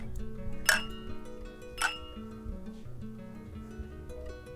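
Glasses clink together in a toast at a proposal celebration, two bright chimes about a second apart over a low murmur of background sound.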